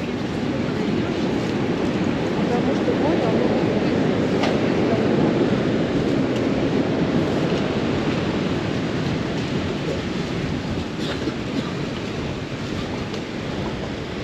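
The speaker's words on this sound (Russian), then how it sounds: "Шторм продолжается." Storm waves pound the Black Sea coast at Lazarevskoye near Sochi, a loud, unbroken roar of surf and wind that stays at full strength with no talk over it.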